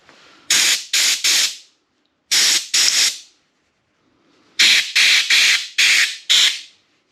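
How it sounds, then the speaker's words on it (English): Compressed air blasts out of a tiny hole on a Land Cruiser FJ55 in short loud hissing bursts, a quick group of three, then two, then five, close and with quiet gaps between. "Maybe I'll get some compressed air going. All right, let's see what happens. See if I can blow this out a little bit."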